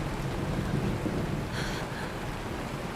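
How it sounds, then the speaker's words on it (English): Rain and thunder in the video game Honkai: Star Rail: a low, rolling rumble of thunder under a steady wash of rainfall, loud and continuous with no voices. "It is raining!"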